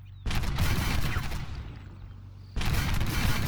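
A tank cannon in a video game fires, giving two loud, sharp booms a couple of seconds apart, each with a broad crackling blast and rumbling tail, with no voices.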